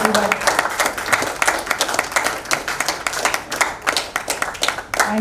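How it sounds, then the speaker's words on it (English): A crowd at a film teaser launch event applauds the cast and crew, with steady, loud, dense clapping that continues throughout, faint voices underneath. "Huge round of applause, ladies and gentlemen, for the entire cast and crew"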